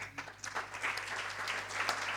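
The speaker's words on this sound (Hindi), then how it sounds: "ताली में मजा नहीं आया" Audience applause at a Jain religious discourse in a temple gathering, a steady dense patter of many hands clapping at moderate volume throughout, without speech.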